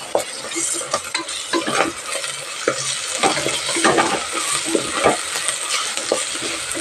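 Ginger garlic paste being stirred into a bitter gourd curry in a pan, loud close scraping strokes in an uneven rhythm over a constant sizzle of frying.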